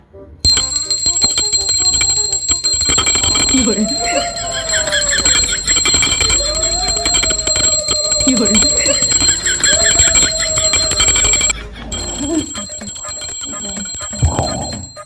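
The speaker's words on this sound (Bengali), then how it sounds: "প্রথমে ঘন্টা বাজায় দেখি এই ঘন্টার আওয়াজে উঠে কিনা" A bell rings insistently to rouse a sleeping daughter-in-law in a home comedy skit, with bright repeated tinkling and clanging, loud and close, while people talk over and between the rings.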